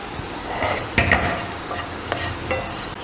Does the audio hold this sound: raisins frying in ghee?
yes